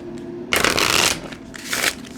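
A deck of cards being shuffled in two quick riffling bursts, the first longer and louder, the second shorter, close and clear with no talk.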